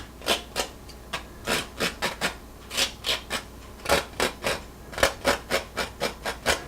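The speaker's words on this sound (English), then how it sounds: "Just scraping the illusion of sticks." A palette knife or brush scrapes oil paint across canvas to suggest sticks in a river scene, about twenty quick rhythmic rasping strokes, close and steady, with no voices.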